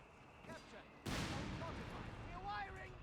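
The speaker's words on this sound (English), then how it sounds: "Barrage coming out. Looks like it's just hitting the main base here." An artillery barrage strikes a base in the Company of Heroes 3 video game with a sudden heavy blast that rolls on as a dense rumble, heard alongside game sounds and faint background noise.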